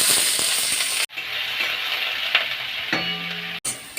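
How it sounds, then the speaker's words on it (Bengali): Chopped onions frying in hot mustard oil in a pan, a steady close sizzle with a brief stir and a short break in the middle. "তেলটা গরম হয়ে গেছে, এবার পেঁয়াজ কুচিগুলো দিয়ে দেবো।"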